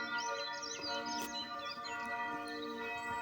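Birds chirp and tweet in short, scattered calls over a ringing backdrop of church bells, with no voices present.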